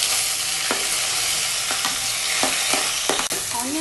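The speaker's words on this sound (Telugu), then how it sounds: "ఆనియన్ అన్ని కూడా బాగా కలిసేటట్టు మిక్స్ చేసుకోవాలండి" Onion sizzles loudly in hot oil with urad dal and red chilli while a spoon stirs it around the pan, scraping at intervals over a continuous, close frying hiss.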